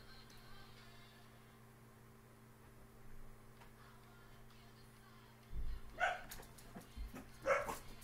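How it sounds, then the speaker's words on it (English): Several dogs break into sharp barks and yips after a long quiet stretch of low electrical hum and soft room noise. The barking comes in short, clustered bursts at moderate distance. "Oh, all the dogs."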